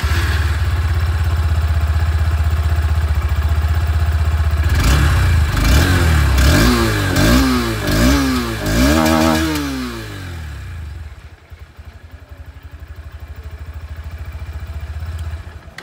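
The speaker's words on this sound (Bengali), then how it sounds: "চলুন তবে এর যে এক্সস্ট সাউন্ড সেটাও আমি আপনাদেরকে শুনিয়ে দিই।" 2025 Honda Hornet 2.0 motorcycle with dual ABS idling, then its exhaust revved in several quick throttle blips that rise and fall, loud and close, before the engine drops back to a steady idle.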